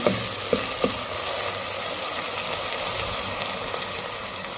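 Chopped onions fry in a pan with a steady, close sizzle and hiss, and a few light utensil clicks come in near the start. No one speaks.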